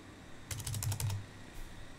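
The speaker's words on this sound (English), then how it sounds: "So type this command carefully and simply hit enter to execute." A quick burst of about eight crisp keystrokes clicks on a computer keyboard as a command is typed, close and isolated against a quiet room.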